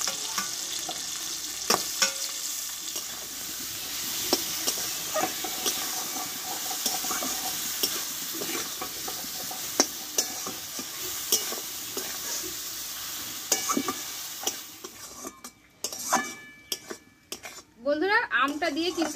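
Crushed raw mango cooks in a pan with Kashmiri chilli for a sweet-sour pickle, a continuous close sizzle with frequent metal spoon clinks and scraping stirs, ending in a few louder clatters near the end.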